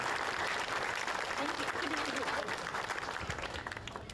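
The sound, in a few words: audience applause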